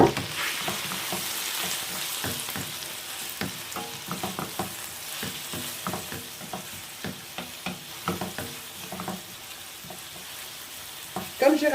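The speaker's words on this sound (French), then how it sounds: "Dans la même poêle, je vais mettre mes oignons" Grated onion and garlic fry in a pan for a kefta tajine, giving a continuous sizzle broken by frequent clicking, scraping stirs of a utensil against the pan.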